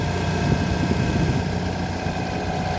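Mitsubishi Lancer, 2015, engine running just after a top overhaul, a steady, even idle hum with a low rumble, close and constant throughout.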